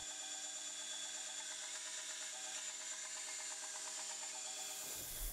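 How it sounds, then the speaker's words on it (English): Steel knife blade made from an old file being ground along its edges, a steady abrasive hiss and scraping that runs without a break the whole time, close up, with no talk. "I will grind all of the edges parallel to the length of the blade"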